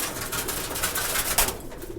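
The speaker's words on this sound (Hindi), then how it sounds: "ये देखें ना, फ़कीर गुलों में कबूतर एक छोड़ रहा हूँ।" At a Sunday pigeon market in Lalukhet, a released pigeon gives a brief, soft cooing call amid crowded, noisy market ambience.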